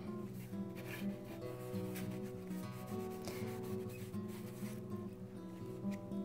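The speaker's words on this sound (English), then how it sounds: "So I'm gonna grab some blue and some red and a bit of white and my matte medium, and I'm just gonna scrub it on here." A paper towel scrubs blue, red and white acrylic paint mixed with matte medium onto a canvas, making a continuous soft rubbing and scratching sound in repeated strokes, close to the microphone, with steady tonal hum underneath.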